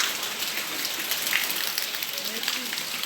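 Heavy rain falls on the city of Maceió, a dense, steady hiss of drops pelting hard surfaces up close, with occasional louder splashes and no pause.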